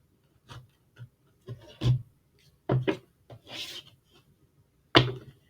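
Tarot cards being shuffled by hand, in short papery riffling bursts and soft slaps with gaps of silence between them, close and fairly quiet.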